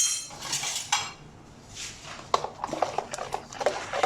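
A spoon stirs raw mango sharbat in a jug, making close, irregular metallic clinks and scrapes against the sides, with a brief lull in the middle before quicker clinking resumes.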